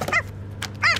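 A cartoon dog in a children's story about a book bus gives two short, bright yelping barks, near and fairly loud, with a pause between them.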